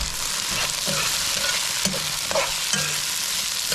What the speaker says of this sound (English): We're gonna saute that. So we're gonna let that cook up for a few minutes.